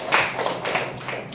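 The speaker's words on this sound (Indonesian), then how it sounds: "Oke, berikan aplaus buat kita." A short round of clapping from a classroom group in an Indonesian civics lesson: several quick, rhythmic claps in a brief burst, fairly close, with no talking over them.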